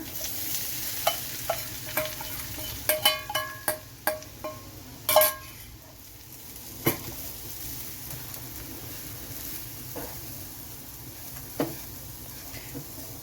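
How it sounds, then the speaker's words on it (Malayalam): Grated coconut fries in melted ghee in a pan, a soft steady sizzle broken by clusters of sharp clinks and taps from a spoon, louder in the first half. "നെയ്യ് ഉരുകി വന്നിട്ടുണ്ട് ഈ സമയം നമ്മൾ ചേർത്ത് കൊടുക്കുന്ന തേങ്ങാപ്പീരയാണ്"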